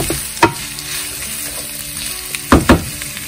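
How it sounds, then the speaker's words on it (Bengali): Capsicum and onion fry on high heat for spicy chilli beef, a steady loud sizzle broken by a few sharp scrapes and knocks of a spatula in the pan, close and with no talking. "ক্যাপসিকামগুলো দিয়ে জাস্ট 1 মিনিট ভেজেছি।"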